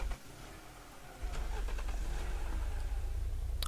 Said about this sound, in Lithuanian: Aš riedu atidundus mašiną